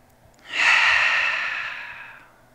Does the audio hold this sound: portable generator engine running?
no